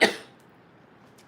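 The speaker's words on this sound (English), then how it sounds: "I have to cough again, excuse me." A single sharp cough bursts out at the start, loud and close, then fades quickly into near silence.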